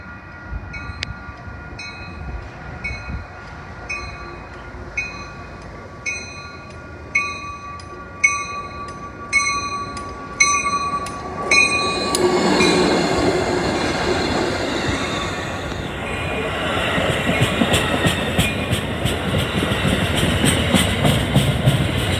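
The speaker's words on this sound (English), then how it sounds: "Next train we see is Amtrak 684 to Boston with 90214 and P42 number 124" Amtrak passenger train led by a P42 locomotive at West Medford on the MBTA line. Steady ringing tones come first, then the train roars close past with rumbling wheels and squealing, growing louder toward the end.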